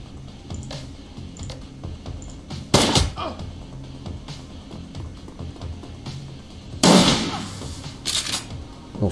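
Shotgun fire in Shadowrun Returns, heard as two sharp, loud blasts spaced a few seconds apart over a low game ambience.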